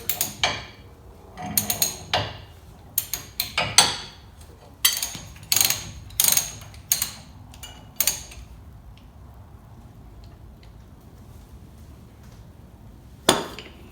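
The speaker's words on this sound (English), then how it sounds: "I'm just using a pry bar here at the bottom of the fork" A pry bar works at the bottom of a suspension fork on a John Deere Z930M zero-turn mower, producing irregular metallic clanks and creaks in clusters, then a quieter pause and one final knock.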